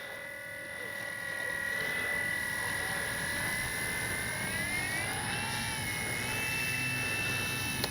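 A FLEX RV-8 60E G2 radio-controlled plane taxiing on grass, its engine giving a steady, close, high whine that climbs and wavers in pitch as the throttle shifts.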